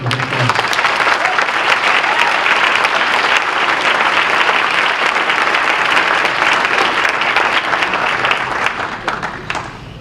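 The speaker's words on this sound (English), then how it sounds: "Give them a round of applause." A crowd gives a long round of applause at the 2015 Windsor Shad Derby coronation, the clapping steady and full throughout before easing slightly at the end.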